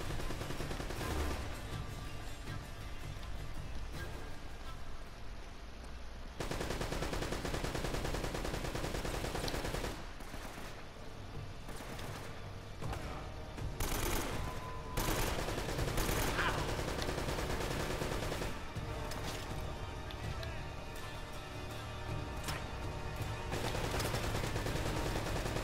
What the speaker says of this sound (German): Wer schießt denn wo auf mich?